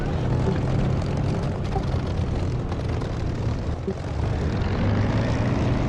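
An aircraft engine drones steadily while the plane taxis in the DCS flight simulator, a loud, constant low rumble with no break.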